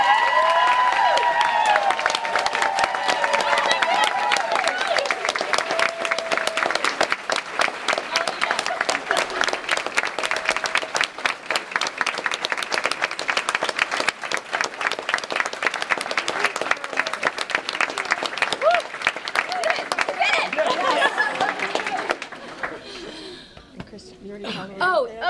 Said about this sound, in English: give one more huge round of applause